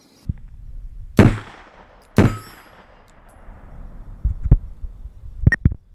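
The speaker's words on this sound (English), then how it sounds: "Now today we're going to be shooting with this guy right here. This is the Atlas Titan. Go ahead and pop that." Shots from an Atlas Titan shotgun heard through hearing protection outdoors: two sharp, loud reports about a second apart, each ringing off, followed by fainter clicks and knocks.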